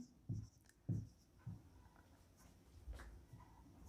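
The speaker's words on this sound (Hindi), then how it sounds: "तो यहाँ मैं लिखता हूँ" Pen or chalk writing during a Class 10 math lesson, a few soft scattered taps and strokes spread over several seconds, quiet and close, no talking.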